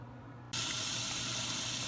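Liquid rushing through a vacuum filtration unit during a non-aqueous filtration in an aldehyde oxidation with chlorite, starting abruptly as a steady loud hiss and pour under a low pump hum.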